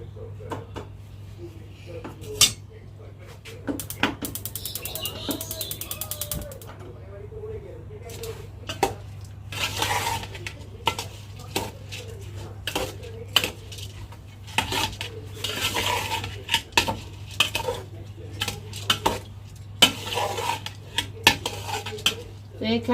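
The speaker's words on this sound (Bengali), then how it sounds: "আমি এটাকে ভালোভাবে মিক্স করে দিলাম" Food being mixed in a pan in a home kitchen, with repeated clinks and scrapes of a utensil against the cookware in an irregular rhythm, close and fairly loud, with a steady low hum underneath and speech at times.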